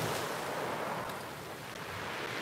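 Black Sea surf at Sochi washes in a continuous, even rush of breaking water, mixed with wind buffeting the microphone, with no voices.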